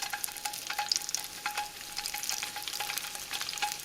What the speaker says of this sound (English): After about 30 seconds, your oil is going to be nice and hot, and you want to start adding your tofu bits.